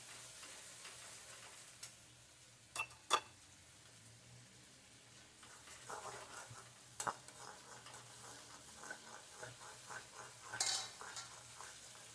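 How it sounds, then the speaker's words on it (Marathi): Onion and dry coconut paste sautéing in oil in a pan, with a soft low sizzle, occasional stirring scrapes and a few sharp clinks of a spoon against the pot, quiet and close with no talking. "ते पण तेलामध्ये तेल सुटेपर्यंत परतून घ्यायचं"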